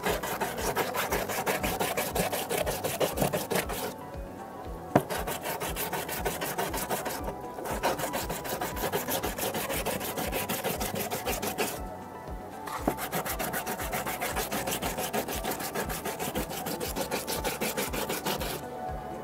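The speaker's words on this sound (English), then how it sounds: "You need to rub it on the sandpaper for 10 seconds just to have a mirror image." A steel Radha 550 TMT rebar rod is rubbed against sandpaper in continuous, close, loud rasping strokes, with a few brief pauses along the way.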